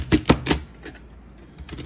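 A knife chops celery into pieces on a cutting board, the blade somewhat dull: three sharp, close knocks in quick succession, then a pause and another cut, near and fairly loud with no talking.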